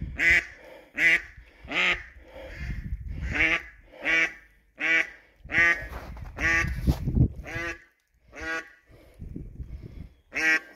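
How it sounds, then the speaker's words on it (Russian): Domestic ducks quack in loud, repeated bursts close by, several calls in quick succession with short pauses between, the hoarse nasal calls overlapping at times. "Тут поспокойнее утка. Голос получше."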